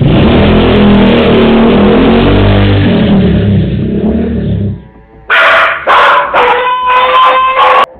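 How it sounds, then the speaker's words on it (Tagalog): A motorcycle engine runs loudly up close, then fades as the bike speeds away, followed by a dog barking in several quick bursts. "Agad na pinaandar nito ang kanyang motor at mabilis na tumakas palayo."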